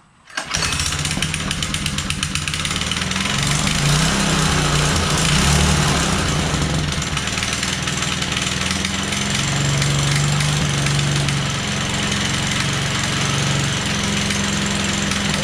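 A Honda motorcycle engine, choked to start, catches and fires up almost at once, then settles into a steady, loud idle close by that holds for the rest of the stretch with no voices over it.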